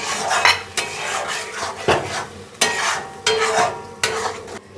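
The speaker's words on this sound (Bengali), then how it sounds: "একটু কষিয়ে নিই।" Jackfruit seed curry with turmeric is stirred and sautéed in a pan, a utensil scraping and clanking against the metal in repeated strokes roughly every second over a faint sizzle.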